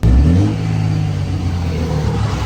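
A third-generation Cummins diesel pickup idles loud and close inside a shop, a brief rev at the start settling into a deep, steady rumble with a throbbing low note.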